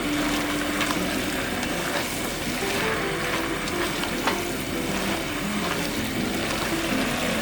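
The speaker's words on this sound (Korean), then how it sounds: "식용유를 넣고 강불에 2~3분 볶아주세요" Meat stir-frying in cooking oil over high heat for Korean yukgaejang, a steady loud sizzle and crackle with light stirring scrapes throughout and no voices.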